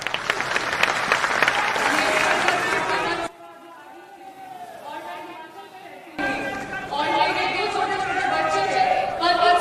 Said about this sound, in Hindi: बस एक बार पहले जोरदार ताली से इसका स्वागत